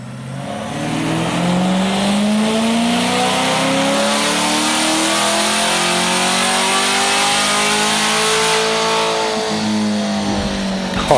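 A supercharged C8 Corvette Stingray, fitted with a Magnuson supercharger, revs hard on a chassis dyno during tuning. The engine climbs loudly and steadily for about ten seconds with rising harmonic pitch and no talk, then drops off at the end.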